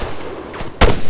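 Gunfire from the military shooter Arma 3: a loud, sharp shot bursts out near the end over a faint background of noise, with a softer crack a little earlier.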